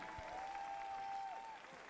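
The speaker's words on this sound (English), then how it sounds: "could we please have a round of applause for both young men inside the cage?" An audience applauds at an amateur cage fighting event, steady clapping from a crowd filling the hall, fairly distant, with a faint whistle in the middle.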